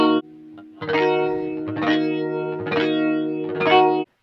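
Guitar chords played through a chorus effect with the feedback turned off, four strummed bursts with a shimmering, wavering tone, each ringing and then cut off, heard alone and close.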